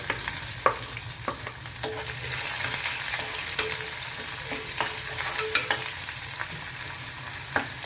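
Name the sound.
finely chopped onion frying in pan for upma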